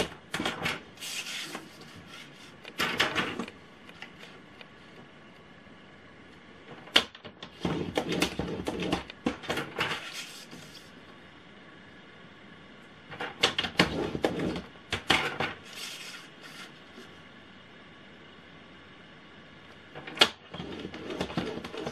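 Cardboard for a box is scored with fold lines at regular intervals, heard as repeated short bursts of scraping and rubbing, each lasting a second or two, separated by quiet pauses, with occasional sharp taps.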